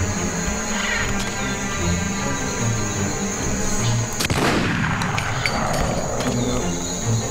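Gunfire in The Punisher video game: a sharp loud shot with a ringing tail stands out among dense game noise and a steady high tone, with a voice talking over it.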